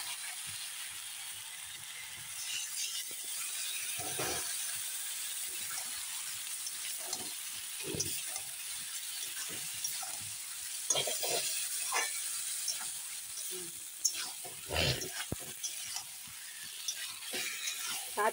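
Jackfruit curry with spices frying in a pan, a steady soft sizzle with scattered scraping and stirring clicks from a spatula, close and fairly quiet, no talking.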